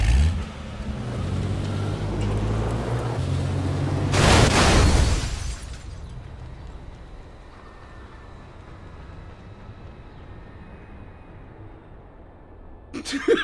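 A car in reverse after a fender bender revs loudly at first, its engine rumbling and surging to a sharp burst of noise, then dropping to a low idle hum before a brief rise at the end.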